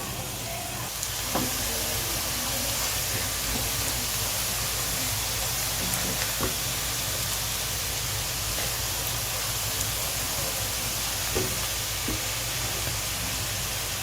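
Onions frying in a pan for dhaba-style tawa kaleji give a steady, soft, even sizzle. The hiss runs unbroken through the whole clip, with a few faint clicks and light pops.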